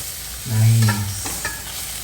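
Fenugreek greens sauté in a kadai, a close, steady sizzle with a short scraping stir near the middle, heard alone without talk.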